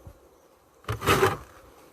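Brief close buzz of bees from a very weak honeybee colony where many bees have died, swelling for about half a second over a quiet background.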